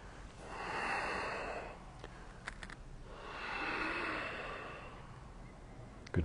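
Heavy breathing during a power yoga class, with two long, slow, airy breaths, in then out, close to the microphone and fairly faint, with a brief sharp noise at the end.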